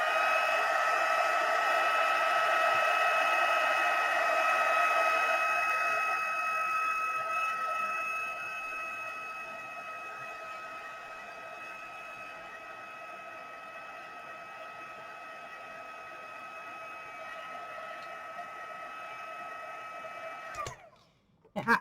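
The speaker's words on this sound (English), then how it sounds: "I have a craft heat tool" A craft heat tool gives a steady, loud whooshing blower hum with a high whine for about twenty seconds, easing slightly, then cuts off with a click.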